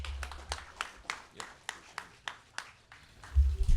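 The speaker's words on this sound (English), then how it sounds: "let's give a round of applause and welcome up Councilman Al Austin from the 8th Council District" Sparse audience clapping outdoors at a community center grand reopening ceremony, a dozen or so separate claps spaced unevenly at moderate volume, followed by a low rumble near the end.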